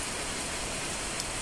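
Heavy rain with strong wind during a second straight day of rainfall, a steady dense broadband roar with no breaks, loud and close, with no voices.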